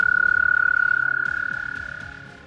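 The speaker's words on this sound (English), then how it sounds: "Every frog croak created ripples on the calm lake." A frog on a calm lake gives a close, loud, rapidly pulsing croak that holds steady and then slowly fades, heard alone.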